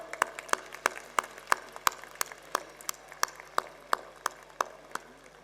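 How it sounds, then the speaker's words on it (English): Sparse, rhythmic hand clapping from an audience at a school annual function, sharp individual claps at a steady pace rather than a full ovation, moderately distant. "Can we have a huge round of applause?"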